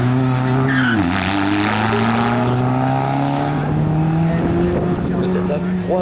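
F2000 race car launching on a slalom run at an event in Agon-Coutainville, engine revving hard with screeching, skidding tires, loud and close, with a commentator talking over it.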